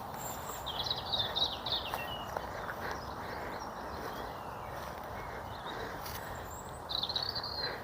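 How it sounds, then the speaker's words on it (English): Birdsong drifting through a quiet cemetery, with short bursts of high chirping near the start and again near the end over a soft, steady outdoor hush. "You can hear the birds singing."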